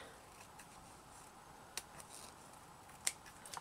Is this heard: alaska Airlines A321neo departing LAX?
no